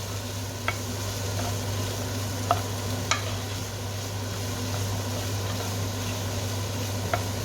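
Chopped onions and bell pepper sauté in a pan for paneer masala curry, a steady close sizzle under a low hum, broken by a few sharp utensil taps as they are stirred.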